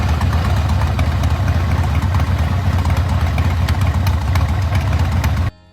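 A Harley-Davidson FXRP motorcycle engine idles loudly and steadily with a rough, throbbing low rumble, then cuts off abruptly near the end.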